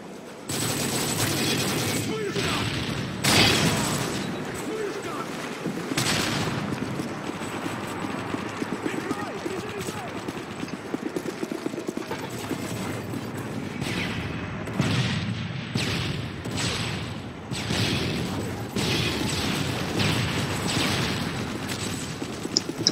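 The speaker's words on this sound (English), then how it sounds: "A lot of explosions. It's not good when there's a lot of explosions." Rapid bursts of gunfire and booming explosions crackle continuously in Modern Warfare 3 multiplayer, dense and chaotic like a battle, with occasional voices mixed in.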